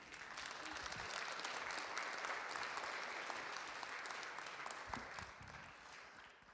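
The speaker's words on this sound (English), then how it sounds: "Another round of applause for our Professor Wang." Sustained audience applause for Professor Wang at a live traditional Chinese painting demonstration, a dense steady clapping from a crowd that holds for the whole stretch, with a few louder nearby claps standing out.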